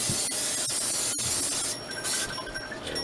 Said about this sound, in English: we're going to spray some oil in the